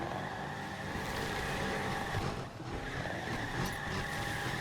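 An all-wheel drive car launches in a drag race in Need For Speed Unbound, its engine roaring loud and dense with tire squeal and racing noise, a brief dip before it surges on.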